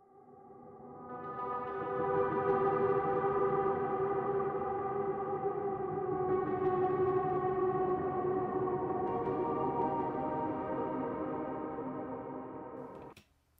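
An atmospheric sustained texture from the Hauschka Composer Toolkit called Purity Seal swells in from quiet, holding a dense, shimmering, slightly siren-like tonal drone for over ten seconds before ending abruptly, soft overall with no voices.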